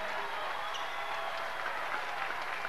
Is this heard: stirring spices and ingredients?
no